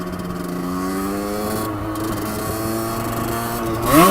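A Rieju RRX motorcycle, warmed up, idles with a steady engine drone, then revs sharply upward at the end for a second-gear wheelie.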